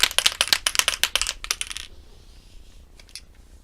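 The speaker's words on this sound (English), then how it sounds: "Shake the can up." A spray paint can shaken hard for a DIY jewelry box project, its mixing ball rattling in a fast, sharp burst of close clicks that stops abruptly, followed by a few faint taps.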